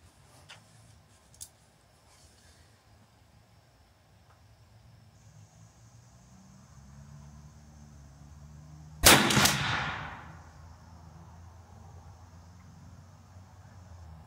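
A Serpent Arms air shotgun fires a single loud, sharp shot at a 30-yard target outdoors, the report decaying over about a second against quiet background hiss.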